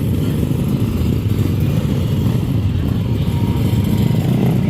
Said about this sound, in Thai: มีมอไซค์ด้วยนะคะ